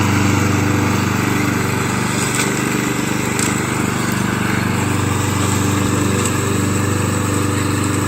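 Lawn mower engine running steadily up close for the whole stretch, a constant loud drone with no talk over it.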